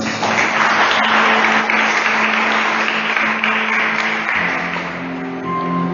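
Congregation applause at a Catholic preaching gathering, a sustained, loud, even roar of many people clapping that eases slightly toward the end, with a faint tone in the background.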